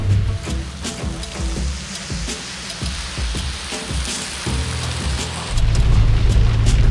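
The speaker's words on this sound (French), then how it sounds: "Donc là, il pleut à torrent." Heavy rain pours down during a test drive of a 1978 Peugeot 604 Landaulet Chapron V6 SL, a dense, steady hiss drumming on the car with a low rumble underneath that swells louder toward the end.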